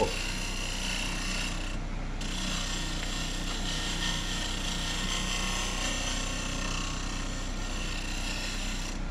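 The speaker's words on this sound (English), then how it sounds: "I'm getting a lot of nice, fine, hairy shavings. That's a good scrape, shear scrape." Steady rasping scrape of a shear-scraping tool on a natural-edge wooden bowl spinning on a lathe, peeling fine, hairy shavings; continuous and fairly close throughout, with no talking.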